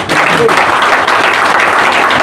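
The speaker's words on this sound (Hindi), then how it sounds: "उसको ताली तो बजाओ।" Audience at a meeting with the NCSC chairman claps together in a loud, sustained round of applause, many hands blending into a dense continuous patter.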